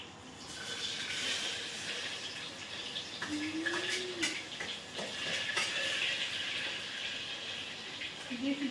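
Onions frying in a pan with a ground paste of garlic and spices, a steady close sizzle with light stirring scrapes throughout and no talk.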